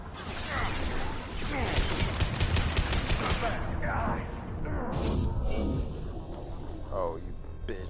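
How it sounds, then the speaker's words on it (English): An impact gun in Mass Effect 2 fires in a loud, sustained burst of rapid mechanical shots up close, then cuts off, followed by a short whooshing blast and scattered combat noise with voices. "Firing an impact gun!"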